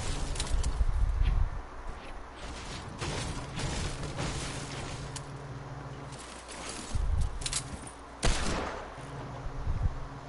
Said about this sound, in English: the dude shot at you